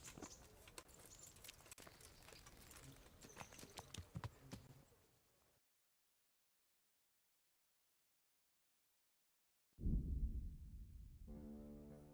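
Horse hooves clip-clop steadily for several seconds in Kingdom Come: Deliverance, then stop into silence before a louder, tonal burst of sound begins.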